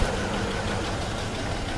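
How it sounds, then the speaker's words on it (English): A car engine idling with a misfire, a steady close rumble with a slightly uneven knock running through the short stretch, no voices. "It's definitely got a misfire."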